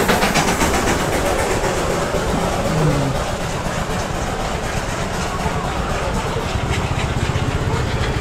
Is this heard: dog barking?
no